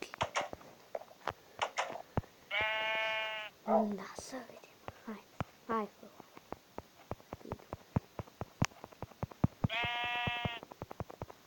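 Sheep in Minecraft Pocket Edition give two clear synthetic bleats amid a stream of clicks and tapping, while a person talks quietly over the game sounds.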